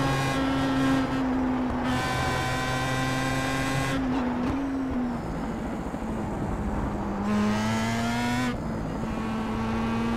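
A Pro Mazda race car at Interlagos screams at full throttle, its engine note climbing through the gears in repeated rising sweeps broken by brief shifts and lifts, loud and close from onboard.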